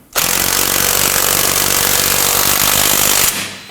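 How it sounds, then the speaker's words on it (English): A power tool, likely an impact wrench, runs continuously for about three seconds, loud and steady, as it tightens the bolt on a front lower control arm of a 2018-2024 Toyota Camry; no talk. "we're going to tighten the bolt on the bottom"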